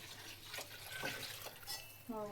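Water is poured onto uncooked rice in a home kitchen. The splashing pour is soft and fairly faint, with a brief gurgle near the end.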